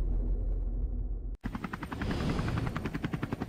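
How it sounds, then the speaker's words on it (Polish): Helicopters in a Skibidi Toilet animation battle scene, a steady loud rotor thrum with rapid rhythmic chopping that cuts out briefly and returns busier, mixed with action effects and no speech. "Helikoptery."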